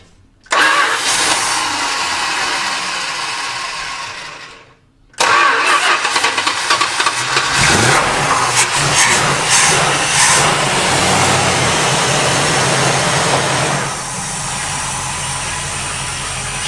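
A big block ramp truck engine cranks and fires, runs hard and loud up close, cuts out briefly, then restarts and settles into a steady, rumbling run with no talking.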